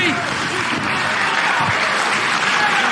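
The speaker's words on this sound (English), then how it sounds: "listen to this crowd once again" Wrestling crowd at an independent tag-team match cheering and applauding, a loud, continuous wall of clapping and shouting that holds steady throughout.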